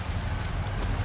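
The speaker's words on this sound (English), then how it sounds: "Rain, nothing but rain." Steady rain in the Hitman 3 video game, a dense continuous patter with a heavy low rumble, even and unbroken throughout the short moment with no voices.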